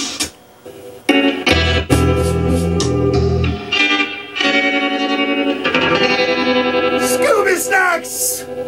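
An excerpt of a song plays loud, with effects-laden guitars, chorus and distortion over heavy bass and reverberant textures.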